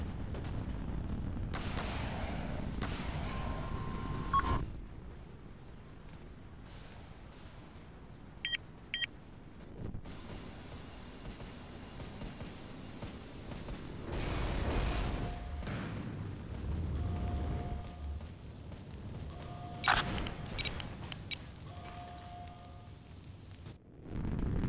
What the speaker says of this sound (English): Missile away, missile warning.